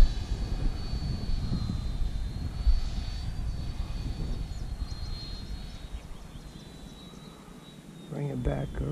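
A Freewing F-22 Raptor 90mm RC jet flies overhead with a steady whining engine rush that fades slightly as it passes, while people talk nearby.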